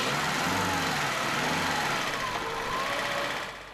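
A turbocharged Formula One engine, the type that won the 1983 championship, runs loud and raspy with a droning, pulsing tone that rises and falls, then starts to fade toward the end.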